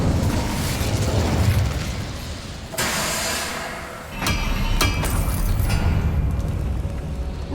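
The Incendio fire spell going off in a wizard video game: a loud, sustained roaring blast with dense rumble that dips briefly and then surges again, with sharp crackling bursts layered over it.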